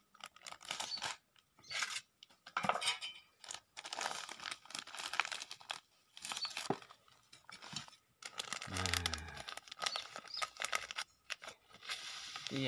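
Natural fertilizer is mixed by hand in a bucket, giving close crinkling, rustling and crunching bursts broken by short pauses, with a brief low rumble near the end and no clear talk.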